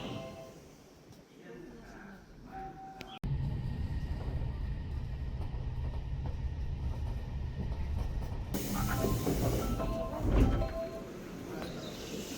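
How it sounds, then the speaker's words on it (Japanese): A train rumbles into a station in Japan with a low, steady roar and hiss, brakes squealing faintly near the end, while Japanese station announcements and voices sound over it. "ただいま到着の電車は"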